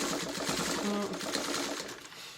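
Sewing machine stitching a quilt, running continuously in a quick, even mechanical chatter, close up, with no talking.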